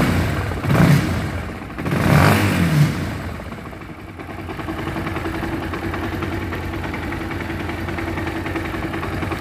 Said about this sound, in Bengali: তো ভিউয়ার্স, সবশেষ বিষয়, বাইকটা আমাদের ওকে হয়ে গেছে। ইঞ্জিনের সাউন্ড শুনুন,